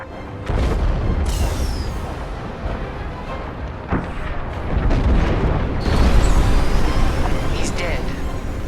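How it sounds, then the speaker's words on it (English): A frigate explodes in Star Wars Squadrons with deep rolling booms and rumbling blasts, loud and sustained, while voices talk urgently over the noise. "The frigate is about to explode!"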